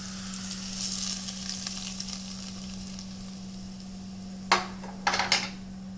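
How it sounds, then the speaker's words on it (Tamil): Chilli powder tempering sizzles as a pinch goes into hot oil with green and dried chillies, then bursts of sizzle as it is poured into cooked spinach palak kitchadi, close and alone. "ஃபைனலாக ஒரு பிஞ்ச் சில்லி பவுடர் போட்டு இதை நம்ம கீரையில் போட்டுற வேண்டியதான்"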